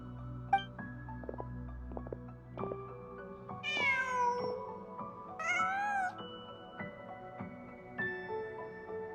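A cat meows in the video game Genshin Impact, giving a few distinct, drawn-out mews over a quiet bed of sustained background music with soft tonal effects, fairly close and clear.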